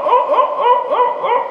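A man imitates the barks of a dog far away, a rapid run of short yipping barks repeated steadily for about a second and a half, loud and close to the mic.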